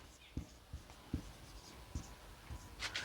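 Chalk or marker tapping and scratching on a classroom board during an English grammar lesson, faint strokes in an irregular rhythm of about six marks.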